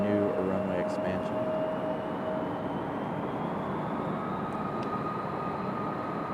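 A United airliner taxiing at Raleigh Durham airport gives off a steady, moderately distant engine roar and whine that holds level throughout, with a faint tonal hum fading early on.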